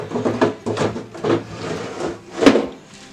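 A wooden cupboard drawer slid in and out on newly fitted timber runners, giving several rough rubbing, scraping strokes with a final knock, close and moderately loud with no talk.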